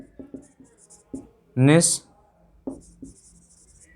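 Words are written on a board in quick, short scratchy strokes that come in bursts, with a brief voice sounding midway through.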